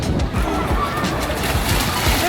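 Water sloshing and splashing at a public fountain filled for summer play during a Canada Day outing in Mississauga, with children using water guns; steady broadband wash close by, with voices in the background.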